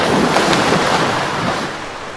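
Ocean waves in the underwater exploration game Abzu, a steady broad wash of surf and wind-like rushing that swells briefly then slowly fades, with no voices.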